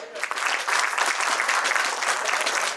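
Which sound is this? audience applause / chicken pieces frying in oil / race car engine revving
audience applause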